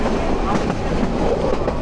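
A crowded intercity train bound for Netrokona rumbles and clatters steadily throughout, with a dense, continuous roar of wheels and carriage noise heard from inside among standing passengers.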